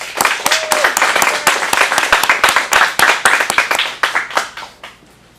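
Audience at an adult acting showcase in a Phoenix studio applauding a performer after his self-written monologue, lively close clapping from a modest crowd that swells briefly and then tapers off to quiet.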